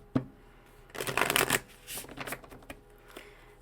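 Oracle cards riffle and slap together during a tarot reading, a close quick flurry of shuffling followed by a couple of shorter softer shuffles, with no talking.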